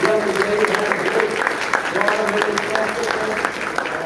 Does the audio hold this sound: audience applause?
yes